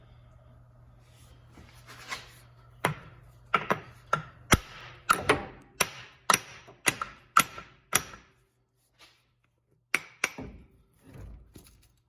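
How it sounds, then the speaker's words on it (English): Sharp hammer taps on the axle shaft of a Dodge Ram differential, a dozen close metallic strikes coming in an uneven rhythm with short pauses, loud and clear with no talking. "we're going to take a hammer, we're going to tap on it right here"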